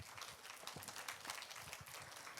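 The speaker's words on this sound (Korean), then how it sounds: "큰 박수로 맞이해 주세요." Steady, faint applause from an audience at a small-library community forum in Goyang, welcoming the library's director to speak, a continuous wash of many hands with no voices.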